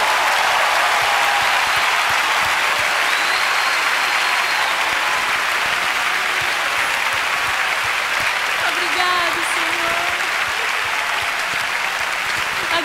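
Large congregation at a praise and worship congress applauds the Lord; loud, sustained crowd clapping fills the space without pause, with faint voices rising through it.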